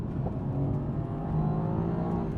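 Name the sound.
Mercedes-AMG C63S engine revving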